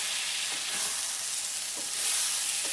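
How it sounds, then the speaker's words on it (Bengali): Fried soybeans being mixed with spices in a hot pan for an egg soybean curry, giving a continuous close sizzle with a few soft scrapes as the pieces are turned. "এটাকেও মশলার সাথে একটু মিশিয়ে নিচ্ছি।"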